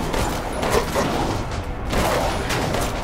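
Gunfire in Resident Evil Village, a loud, continuous stretch of shots and booming game action with a brief dip midway.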